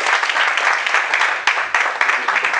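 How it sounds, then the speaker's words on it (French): Audience applause greets the president of a non-profit association introduced at the Ballon PO 2014 ceremony: steady, dense clapping from a crowd, loud and continuous throughout. "le président Grazaï Sekala Stéphane, que je vous demande d'applaudir très fort"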